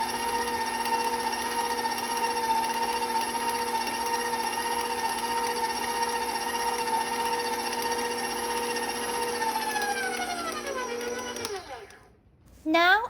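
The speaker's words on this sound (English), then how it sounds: "I'm going to make sure that I mix it until it is just all combined" An electric mixer beats chocolate chip cookie dough after the eggs go in, a steady loud whirring hum with whining tones that runs unbroken, then winds down and stops near the end.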